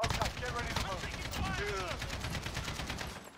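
Dense, continuous gunfire rattles throughout in the Modern Warfare video game, rapid overlapping shots like a firefight, with someone talking over it.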